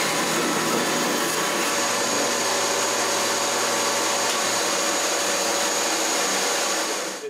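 A small-motor bandsaw, compared against a homemade wooden bandsaw, runs steadily while cutting wood, giving a loud continuous whine and hiss that holds level for the whole stretch before easing off at the end.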